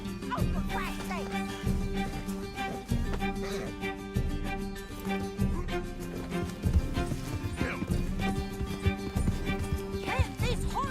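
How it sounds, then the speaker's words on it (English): Hoofbeats of a galloping horse in Red Dead Redemption II, steady rapid clip-clop under a dense game music score with occasional whinnies and brief voices. "Can't this horse go any faster?"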